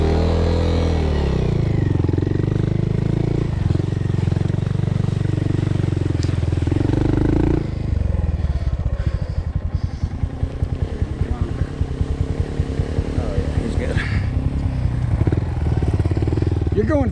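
Honda Monkey motorcycles ride a muddy Bald Mountain jeep trail through deep puddles, a steady loud engine drone that shifts to choppy, sputtering revs as a bike works through the water nearby.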